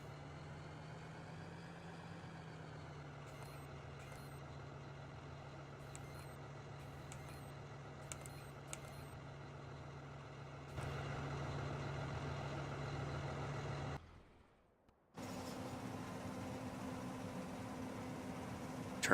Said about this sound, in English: Turn that tractor off